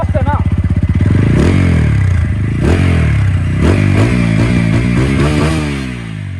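A TVS Apache 200 4V BS6 motorcycle with about 70,000 km on it revs up close, its exhaust rising and falling in several sharp, crackling bursts over a steady idle.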